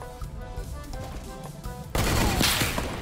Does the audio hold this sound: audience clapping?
no